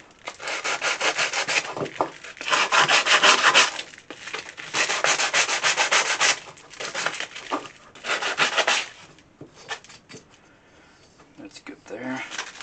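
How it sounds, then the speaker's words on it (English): Bursts of sandpaper rubbing against the edges of a scrap-wood candle holder, steady back-and-forth strokes in several passes with short pauses between, close and fairly loud. "we'll just grab some sanding paper and just give a quick sand to the edges here"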